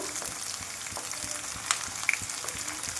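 Chicken liver pieces fry in a pan with ginger garlic paste, a steady close sizzle with soft crackles and a couple of sharp pops, no talking.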